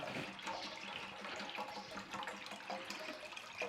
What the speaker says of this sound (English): I'm going to chuck quite a lot of this brine in here